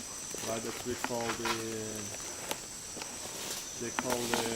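Bird calls in dense Amazon rainforest, repeated stepped, harmonic notes under a steady high insect drone, with someone talking softly in between.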